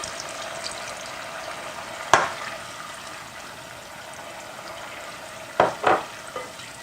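Portuguese-style garlic shrimp fry in a pan with lemon juice and chopped cilantro added, giving a steady close sizzle broken by a sharp stir or scrape and a couple of later splashing bursts.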